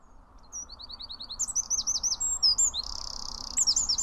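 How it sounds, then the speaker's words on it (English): A wren sings a rapid, loud, high-pitched song of repeated chirps and trills with a buzzing rattle section, close to the listener and heard alone for about four seconds. "there's a structure in the song, and if you hear that, you know you are without a doubt dealing with a wren"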